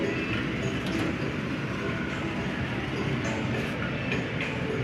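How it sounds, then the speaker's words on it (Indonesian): A Blambangan Express passenger train arriving at a station rumbles steadily with rhythmic wheel clatter along the rails, close and continuous, with faint squeals and no voices. "kereta api Blambangan Express telah tiba di stasiun"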